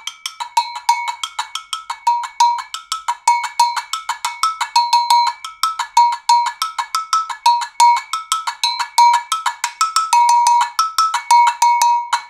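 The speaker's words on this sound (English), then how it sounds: "we're gonna clack them together in between those notes and it's gonna give it a whole new dimension" Agogo bells ring in a fast, steady pattern of bright metallic notes, with the two bells clacked together between strikes for extra clicks, played alone and up close for the whole passage.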